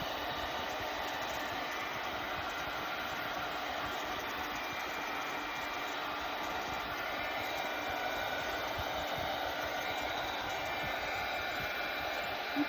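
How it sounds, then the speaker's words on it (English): A steady, even blowing roar of a hot air dryer runs without a break, constant in level and fairly close. "you simply go in here with a hot dryer."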